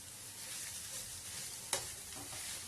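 Sweet potato pieces frying in ghee for a sweet potato payesh, a soft, steady sizzle close by with one sharp stirring clink partway through and a faint tap at the end, no voices.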